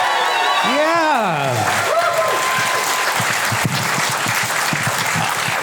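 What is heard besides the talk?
audience applause at a comedy show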